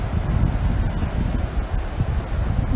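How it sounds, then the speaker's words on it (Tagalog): Strong coastal wind at Hirtshals in North Jutland, Denmark, buffets the microphone in a constant low roar, with no voices heard. "Mawindi po, mawindi."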